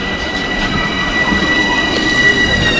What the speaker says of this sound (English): This is a local train.